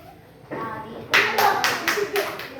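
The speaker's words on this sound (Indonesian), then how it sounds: "Tepuk tangan dulu." A group of children claps in a steady rhythm, several sharp bursts in a row, following a brief spoken line.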